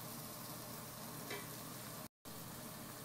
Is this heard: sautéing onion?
yes